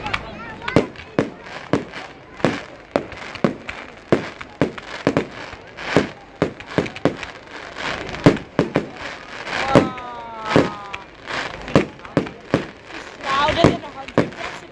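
Bonfire Night fireworks in Corby, England, crack and bang in a rapid, irregular barrage of loud sharp explosions with crackling and whistling bursts, while people talk nearby between the blasts.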